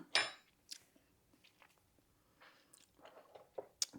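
Close, wet chewing and squishy bites of pimento cheese egg salad eaten from a spoon, in irregular bursts with brief quiet gaps and a faint clink.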